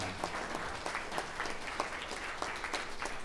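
Wedding party guests clap in a quiet, distant burst, individual hand claps standing out sparsely and unevenly against a low room murmur.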